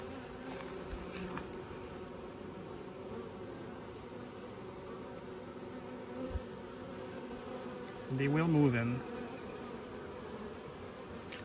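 Honeybees bearding in a clump under an almost empty queenless hive give a steady, dense buzz throughout, with a brief louder drone of a nearby bee passing close and a few quiet spoken words.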